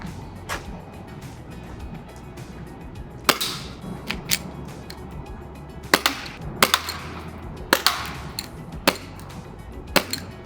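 A Glock 42 BB pistol fires outdoors in the cold: a string of sharp, dry pops spaced irregularly over several seconds, some paired closely, moderately loud against low background noise.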